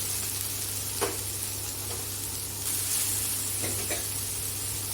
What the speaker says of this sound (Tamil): வதங்கட்டும். வெங்காயம் வதங்கிருச்சு